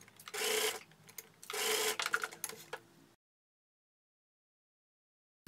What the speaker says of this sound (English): I'll pin and I'll sew in the seam allowance.